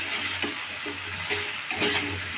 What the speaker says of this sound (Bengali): এবার আলুগুলোকে ভালো করে কষিয়ে নিতে হবে